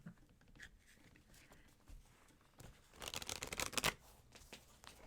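A deck of Lenormand cards is shuffled close by, a faint papery riffling that swells into a denser flurry of flicks toward the end.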